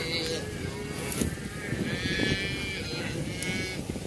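A cattle herd being driven across a farm pasture, with cows and sheep-like bleats and moos calling out repeatedly at middle distance over a rumbling background.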